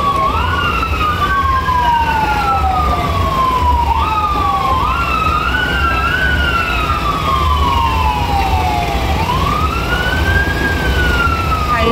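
Emergency vehicle sirens wail through a float parade closing the patron saint festivities in Sonsonate, several overlapping rising-and-falling tones sounding loud and continuous over crowd and traffic noise.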